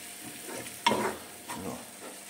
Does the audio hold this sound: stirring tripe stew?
yes